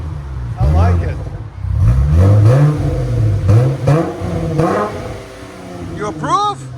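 A 2019 Dodge Challenger SXT with a 3.6L V6 and glass pack exhaust revs repeatedly, loud and close, each throttle blip rising and falling, with people talking between the pulls.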